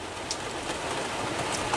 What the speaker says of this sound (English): As often before, I'll apologize for the rain.